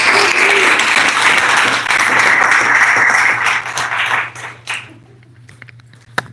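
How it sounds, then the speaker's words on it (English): Applause from a beekeeping club meeting audience welcoming new guests and members, dense steady clapping that tapers off and fades to scattered claps near the end. "Let's all give a round of applause for all of our new guests and members."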